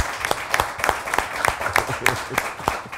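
Audience applause at a Haitian health-care forum, a loud run of sharp, irregular hand claps from a small crowd, close by and steady across the moment with no voices over it.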